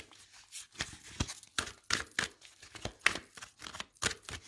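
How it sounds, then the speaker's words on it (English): Tarot cards given a thorough hand shuffle, soft papery riffles and slaps in an uneven rhythm, close up and fairly quiet, with no talking. "just giving the cards a really good shuffle"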